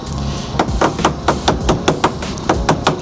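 A soft mallet taps a wheel centering spacer into place with about a dozen quick, evenly spaced dull knocks, loud and close.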